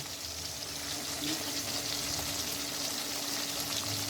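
Carlo fish frying in a pan crackles with a continuous, even sizzle of hot oil, steady and moderately close with no voices over it.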